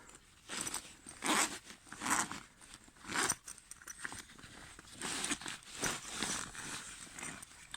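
A zip being run along a bivvy bag at a camp setup, giving several bursts of rasping, scratchy zipping close by with short pauses between pulls, no voices.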